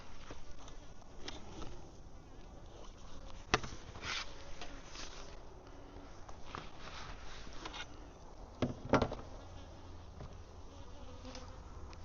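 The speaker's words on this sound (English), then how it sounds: "They look like they got a lot of bees up here." Bees swarm and buzz around a beehive during honey pulling, a dense continuous drone up close with occasional louder passes near the listener.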